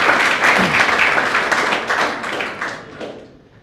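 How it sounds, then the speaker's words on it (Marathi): An audience gives loud applause for Harsh Mane, a Class 10 CBSE topper, at a student felicitation event; the dense clapping starts strong and gradually fades away. "हर्षला एकदा जोरदार टाळ्या वाजवायच्या हर्षच्यासाठी"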